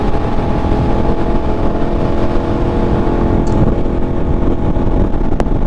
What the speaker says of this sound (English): this bike sounds so good now